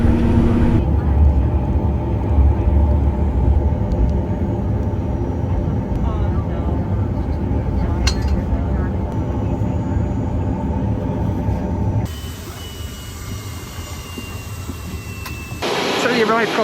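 A 328 jet airliner taxiing at Telluride airport in Colorado, its steady loud cabin drone and engine whine continuous, shifting character near the end.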